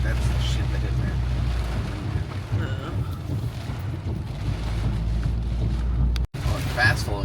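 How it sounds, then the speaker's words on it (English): Fast-flowing floodwater during Hurricane Beryl in Galveston County, Texas, rushes in a loud, steady, broadband roar mixed with buffeting wind, heard from a vehicle driving through it. The roar drops out for a moment near the end. "it's fast flowing water here."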